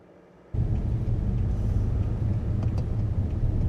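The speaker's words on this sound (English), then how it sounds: "today we're driving the Bmw E60 M5. That's the V10 variety with the 5-liter V10." A BMW E60 M5 with its 5-liter V10 driving in the Canadian Rocky Mountains, a steady loud low engine and road rumble kicking in abruptly after a brief quiet start and holding throughout.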